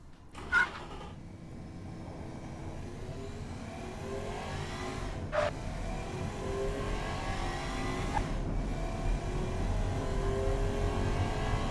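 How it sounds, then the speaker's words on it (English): A 2000 Athena SL7 in Automation builds speed, its engine note climbing steadily over nearly twelve seconds, with a few short gear-change breaks and a single faint thump. "let's let this thing accelerate"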